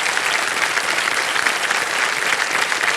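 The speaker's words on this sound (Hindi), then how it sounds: "तालियां बज जाए इनके लिए।" A studio audience on the Indian TV quiz show Kaun Banega Crorepati applauds, a loud, dense, steady wash of clapping with no break, filling the whole stretch.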